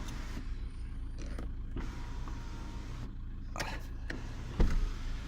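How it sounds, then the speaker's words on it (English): Electric sunroof motor on a Skoda Octavia running inside the car, a steady low whir with brief clicks and a faint thump as the roof panel reaches its stop. "Yeah, the sunroof works."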